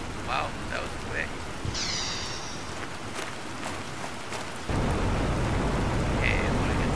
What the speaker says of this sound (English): Wait a minute, it's raining.